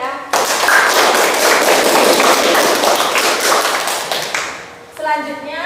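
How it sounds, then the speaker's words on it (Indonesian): Classmates clap for a student who won a world mathematics olympiad, a loud, dense burst of applause that holds steady for about four seconds, fades, then gives way to a voice speaking. "tepuk tangan untuk Omar ya"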